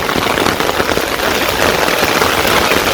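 Heavy rain in a Bangladeshi village falls in a dense, constant patter close by, loud and even throughout, with no one speaking.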